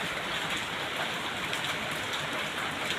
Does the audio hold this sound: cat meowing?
no